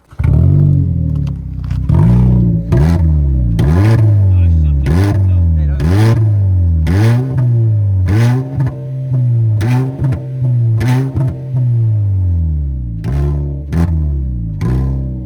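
Loud, raw car engine revving repeatedly without a muffler, rising and falling in sharp bursts with harsh, rattly exhaust, close up.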